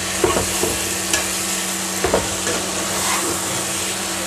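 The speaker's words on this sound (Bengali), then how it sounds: "চুলার আঁচটা কমিয়ে দিয়ে আমি আস্তে আস্তে আচারটা বানিয়ে নিব।" Hog plum pickle sizzles steadily in an uncovered pan on a stove turned down low, with occasional spoon scrapes and clacks as it is stirred.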